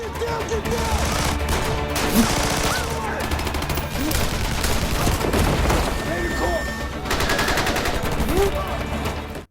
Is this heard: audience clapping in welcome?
no